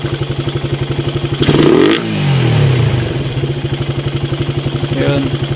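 A Suzuki Raider 150 motorcycle fitted with a 30mm Koso open carburetor and straight pipe runs at a steady, pulsing idle, with one sharp rev that swells and falls back. A voice talks over it briefly.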